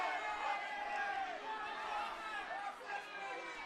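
Rugby crowd at a premier grade men's fifteens match booing and murmuring in disapproval after a late tackle, a steady broad roar of many voices rising and falling, heard from a distance.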